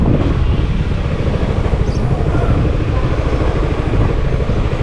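Yamaha XMAX ST scooter riding along with its engine running, a steady, loud, continuous rumble mixed with heavy wind roar, close and unbroken throughout.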